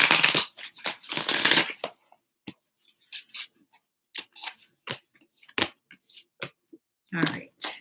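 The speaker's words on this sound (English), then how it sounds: "One more shuffle." Bursts of tarot cards being riffled and shuffled, a couple of long rustling runs followed by lighter taps and flicks, close by and without talk.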